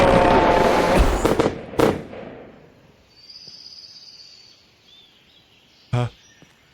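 Fireworks burst in the video game Firework Mania: a rapid cluster of loud explosive cracks, then a thin whistling hiss and scattered crackle, ending with one more sharp bang.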